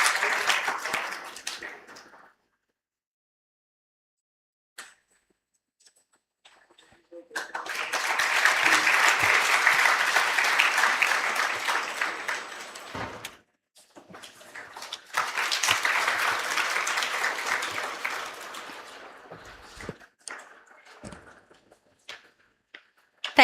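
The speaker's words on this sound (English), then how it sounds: "Please give a huge round of applause" Two long bursts of dense audience applause at an MSME leadership summit on a campus, swelling and fading in a hall, separated by short gaps with brief talk at the start.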